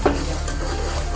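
Ginger-garlic paste and spices for pav bhaji frying in a pan with a steady, close sizzle and a brief scrape of stirring at the start, continuous for about a second.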